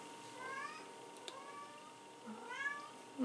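A house cat meows in a drawn-out, wavering way, two long meows with a quiet pause between, fairly soft over a faint steady hum indoors.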